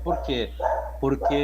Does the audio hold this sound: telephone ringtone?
no